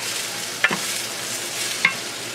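Rough, harder vegetables fry in oil with garlic and ginger, giving a steady broadband sizzle. Two brief scraping stir clicks cut in, one near the start and one near the end, with no talk over it.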